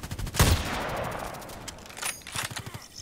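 A loud, close gunshot from the video game Contract Wars cracks out near the start, followed by a decaying tail and softer game sounds and clatter.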